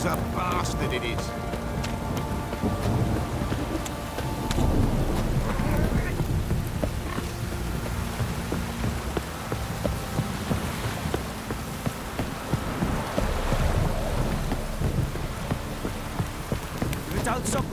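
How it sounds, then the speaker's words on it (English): Heavy rain pours steadily on surfaces in The Witcher 3, a dense continuous hiss with scattered drops, and voices talk over it partway through. "This downpour's a bastard, it is."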